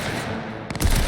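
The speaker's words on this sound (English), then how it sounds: "I think I prefer using the pistol." Gunfire in the video game Cyberpunk 2077 as a player fires a pistol, with a quick cluster of sharp cracks near the end following a stretch of steady noisy background, loud and close.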